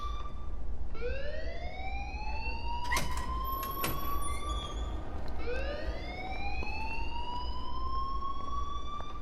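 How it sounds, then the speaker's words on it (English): A school alarm in the Life Is Strange video game wails in repeated rising sweeps, loud and steady, with a couple of sharp clanks cutting in midway. "please turn off that alarm since that's your job"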